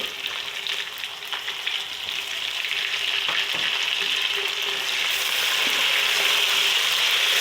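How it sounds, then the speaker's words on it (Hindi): Tomatoes frying in a pan with garlic and ginger, a steady close sizzle that grows slightly louder and denser toward the end, with a few soft stirring knocks and no talking. "टमाटर को भून लेती हूँ।"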